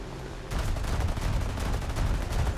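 An aircraft machine gun in the video game War Thunder opens up abruptly and keeps hammering for two seconds, a loud, continuous stream of rapid shots with no speech.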